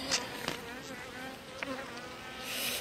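Honeybees buzz steadily around a small colony during late-September pre-wintering checks, a close, continuous hum with a few louder passes.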